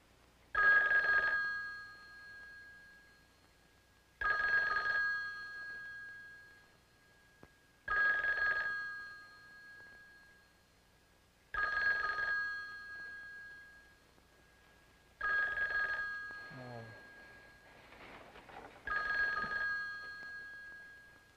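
An old telephone bell ringing in six separate bursts at regular intervals, loud and clear in a quiet room, with a faint voice briefly heard between two rings.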